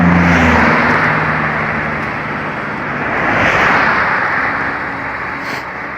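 Road traffic near a motorway on the approach to Santiago de Compostela, a loud, continuous rush of passing vehicles that swells and fades as cars go by close at hand.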